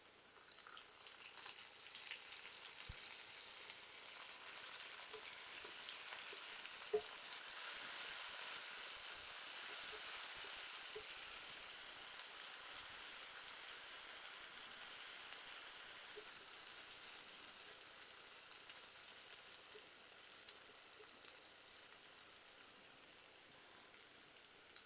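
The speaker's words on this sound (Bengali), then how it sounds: "পেঁয়াজের সাথে আদা রসুন পেস্টটা একটু ভেজে নিলাম" Sliced onion with ginger garlic paste fries in oil in a pan, a steady, soft hiss of sizzling with faint pops throughout and no voices.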